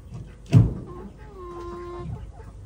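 A Rhode Island Red crossbreed chicken gives a drawn-out, squeaky, wavering call just after a sharp nearby thump, with low background noise throughout.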